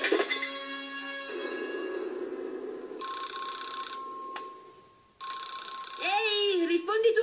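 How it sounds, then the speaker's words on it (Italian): Telephone ringing in an Italian-dubbed Doraemon cartoon, heard as repeated electronic trilling bursts with a short pause between rings, followed by a cartoon voice speaking. "Ehi, rispondi tu al telefono."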